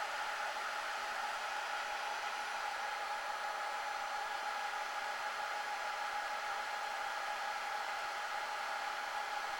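A Dell PowerEdge 2650 server runs with a constant, loud fan roar, a steady broadband whoosh with faint high whine and no variation or talk.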